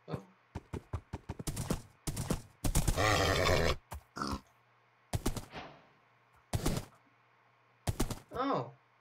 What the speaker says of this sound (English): Ooh, a white horse.